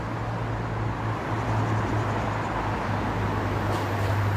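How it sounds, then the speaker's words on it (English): Steady, distant road traffic hums continuously beside misty riverside woodland, a low broadband rumble that fills the whole stretch without breaks. "And the usual bloody traffic noise."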